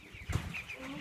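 A chicken gives a brief, close cluck in a short burst, with faint background noise around it.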